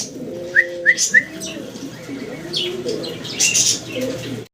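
Indian Noton pigeons coo in soft, low rolling calls throughout, with a few brief chirps early on and wing flutters nearby.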